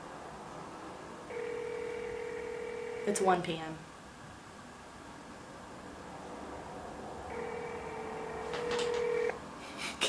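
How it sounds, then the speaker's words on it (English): A phone call in progress: a steady ringback or dial tone plays twice with a burst of dialing tones between, while someone speaks briefly over it in a quiet room. "Please answer your phone."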